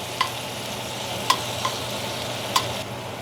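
Garlic cooks in the middle of a pot of thick, hearty chili, giving a low steady sizzle with a few sharp clicks of a utensil against the pot.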